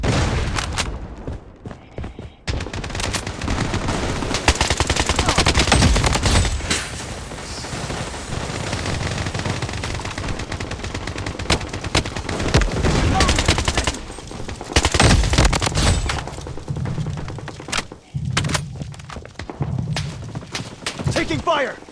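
Rapid gunfire in the mobile shooter game Blood Strike, played in big head mode: dense, loud bursts of automatic shots and thuds running almost nonstop, with brief lulls.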